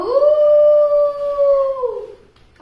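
A single long, steady howl voiced by a person imitating a fox, loud and close, fading at the end.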